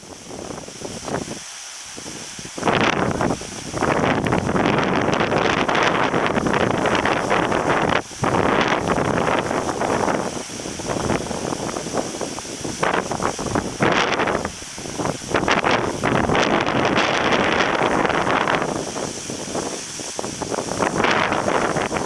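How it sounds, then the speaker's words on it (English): Heavy wind on Mount Rinjani roars across the microphone in long, loud blasts, briefly dropping off before surging back strong and continuous. "The weather is getting slightly hotter, but still it's windy."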